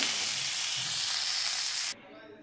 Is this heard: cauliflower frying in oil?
yes